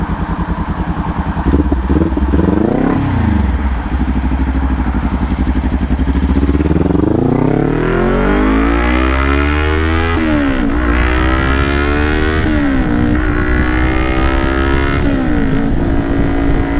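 A motorcycle accelerates hard and climbs through its gears up to sixth, the engine pitch rising and dropping at each shift, loud and close with wind noise throughout.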